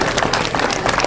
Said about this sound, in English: Oh, you guys can clap.